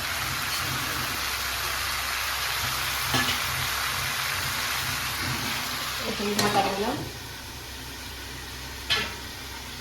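Homestyle mixed vegetables frying in a pan make a constant hiss, with a few spatula knocks and a short rattling scrape; a voice speaks briefly.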